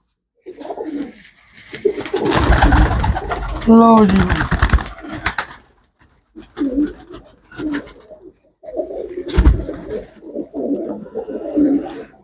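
Pet pigeons coo in soft, repeated rounds close by, broken by clattering bursts and handling noises, while someone talks over much of it.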